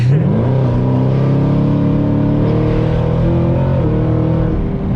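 A modded Chevrolet Camaro ZL1 engine pulls hard under acceleration, a loud, continuous deep roar that climbs steadily in pitch, heard from inside the car with no talking.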